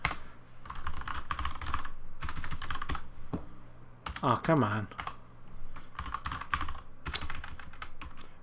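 Clattering keystrokes on a faulty computer keyboard come in dense bursts broken by short pauses, loud and close, with a brief exclamation from a man partway through.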